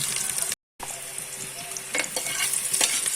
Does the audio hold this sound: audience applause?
no